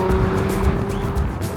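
A Lotus Emira with a Toyota-derived engine drones steadily from its exhaust during a road drive, a loud, constant engine tone with wind and road noise.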